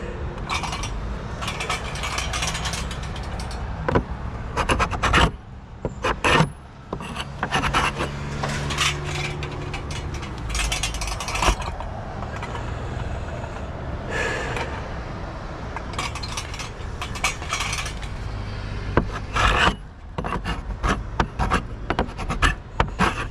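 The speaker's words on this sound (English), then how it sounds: "I tilt the scraper to get more leverage in a specified spot so I could just get under it." A hand scraper drags over weathered wood siding on a house exterior in repeated rough, gritty strokes, close by, with short pauses between scrapes and occasional knocks.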